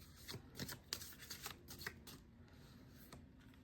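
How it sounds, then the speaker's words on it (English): Tarot cards shuffled by hand, close up: a run of quick crisp riffles and taps that tapers into softer slides, quiet and with no voice. "let's pull a couple tarot cards"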